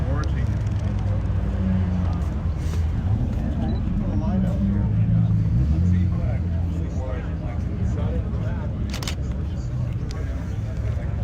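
A patina-worn Chevrolet C10 pickup's engine rumbles steadily at a car show, low and continuous, with people talking over it.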